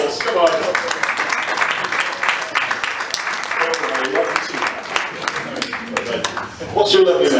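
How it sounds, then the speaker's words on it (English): Audience at a Big D comedy show in Birmingham claps and cheers in a sustained round of applause, with the comedian's voice talking over the crowd noise and a louder swell near the end. "give a big round of applause"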